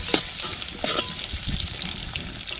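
Green chillies and onions sauté in hot oil for a Tamil-style egg curry, a steady close sizzle with bursts of spoon-stirring scrapes and crackles throughout, no talking.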